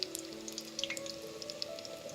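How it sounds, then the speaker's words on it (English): Chicken frying in oil on medium heat: steady, soft sizzling and crackling, with scattered tiny pops over a low continuous hiss. "I am frying the chicken on medium heat."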